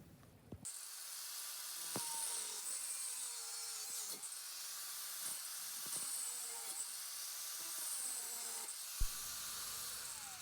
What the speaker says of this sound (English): I'm going to be cutting out the profile of my handle